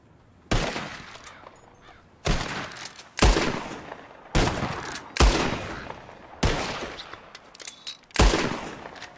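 Seven loud, sharp gunshots crack out one at a time with uneven gaps, each trailing a brief echo, as birds are shot from the sky in the Western video game Red Dead Redemption.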